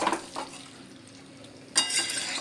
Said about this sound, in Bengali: তো আমি খুব ভালো করে নেড়ে চেড়ে এটা কষে নিচ্ছি